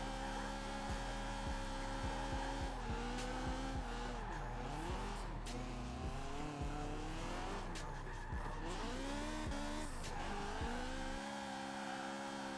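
A BMW E30 drifts in Forza Horizon 4, its engine droning and revving in long sweeping pitch bends while the tires squeal through sustained slides, loud and continuous with game sounds.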